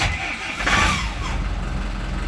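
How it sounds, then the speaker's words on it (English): Starboard Volvo inboard engine on a Bayliner 3450 Avanti motor cruiser cranking to life with the ignition key, a short burst of starter churn that catches into a steady engine rumble, close and fairly loud. "We'll just start the starboard engine first, turn the ignition on, turn it all the way"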